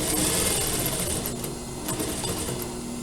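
A domestic sewing machine stitches a fabric surgical scrub cap seam in a steady, continuous whir with a fast, even needle rhythm, close and alone throughout.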